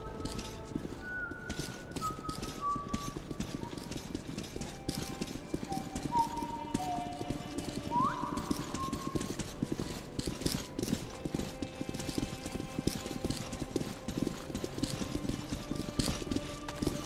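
Horses galloping in Metro 2033 Redux: a steady, continuous clatter of hooves with brief tonal game sounds above it, holding at an even level throughout.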